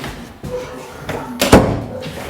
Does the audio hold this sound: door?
yes